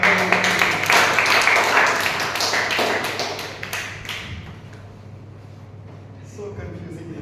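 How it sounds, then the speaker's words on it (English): A Toastmasters meeting audience claps loudly in a burst of applause that gradually thins and fades to a few scattered taps, with voices talking underneath. "A big round of applause for that."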